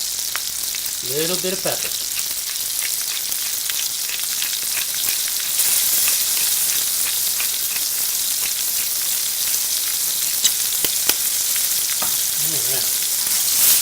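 Onions and tomatoes sizzling in a frying pan, a steady bright hiss filling the whole stretch with faint stirring clicks, while a voice speaks briefly near the start and again near the end.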